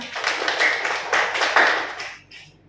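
Rhythmic hand clapping during a counting clap game in a group service class, a few bursts of claps in quick succession, fairly close and moderately loud, tapering off at the end.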